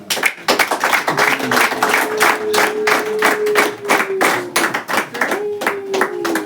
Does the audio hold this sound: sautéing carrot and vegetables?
no